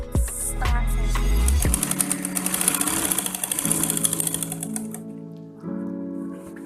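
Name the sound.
sewing machine stitching fabric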